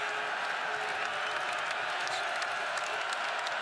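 Basketball arena crowd at a Florida vs South Carolina men's game, a dense steady roar of cheering and applause filling the whole stretch, with commentary talk mixed in.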